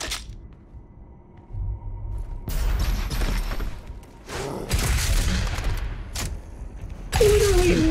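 Super shotgun blasts in the video game DOOM Eternal, several loud booming shots in bursts with rumbling explosive debris between them, close and heavy.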